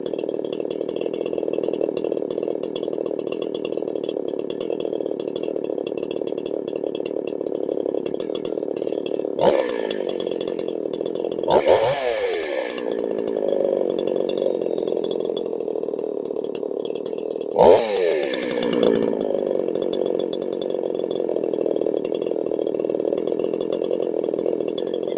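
A chainsaw engine idles steadily while its carburetor is tuned, with two brief revving bursts rising and falling before settling back into the continuous rough idle.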